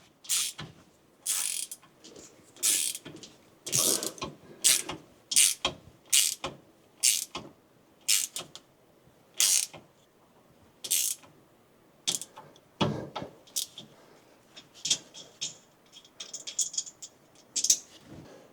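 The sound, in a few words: ratchet torquing nut on Toyota pickup rear disc brake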